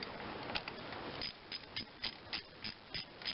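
A quarter-inch drive ratchet turning a deep well 10 mm socket during a serpentine belt job on a 2.5L Subaru, giving a soft, close, regular clicking of about seven evenly spaced strokes.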